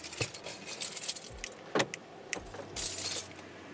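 Car keys jangle close by as a car is locked, a few bright metallic rattles in short bursts with faint thumps between, no talking.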